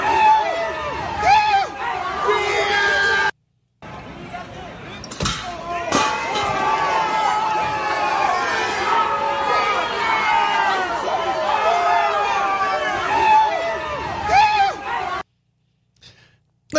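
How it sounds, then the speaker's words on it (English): A crowd cheers and chatters on a played-back recording, a dense, lively roar with excited voices that drops out briefly twice, once near the start and again at the end. "And the noise you hear in the background is cheering."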